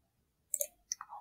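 Mouse clicks while working in ArcGIS software on a computer: a quick cluster of three or four sharp, light clicks, close and fairly quiet, alone against near silence.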